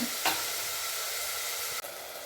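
Tomatoes sizzle steadily while being sautéed in a pan, a close, continuous frying hiss with a brief clatter near the start and a short break near the end.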